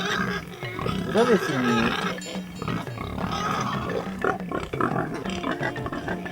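Gascon pigs grunt and squeal close by in a continuous, busy jumble while people talk over them.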